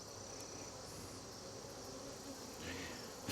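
Bees at an open hive during an inspection, a steady, dense buzzing swarm close by, holding an even level throughout with no voices.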